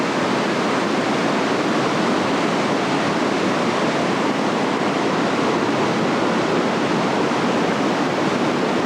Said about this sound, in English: Here's the water rushing down.